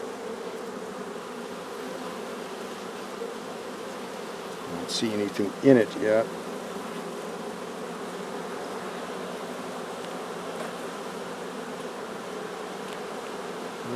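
Honeybees buzzing steadily around an open hive frame of new comb in a freshly split colony, a continuous close drone with one brief louder pass; a person speaks briefly over it.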